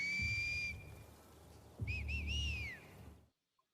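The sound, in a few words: voice imitating strange bird-like whistles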